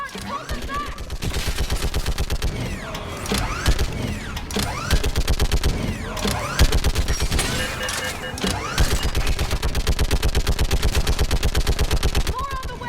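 Sustained rapid gunfire from a mounted gun in the Mass Effect 3 video game, a loud continuous stream of shots with brief pauses and explosive crashes. Voices shout over the firing.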